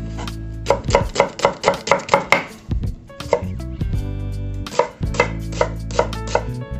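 An onion chopped on a cutting board for a vegetarian carrot ginger soup: a quick run of about eight sharp, rhythmic knife strikes, a short pause, then a few more chops and scraping, close and loud with no talking.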